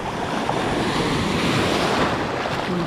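Strong waves and current churn near an island, a loud, continuous rushing wash of surf mixed with gusting wind noise on the microphone.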